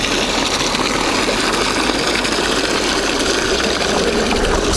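A VORHUT drainage pump runs steadily while pumping water, giving a constant close motor hum with rushing, splashing flow, loud and unbroken throughout with no talking.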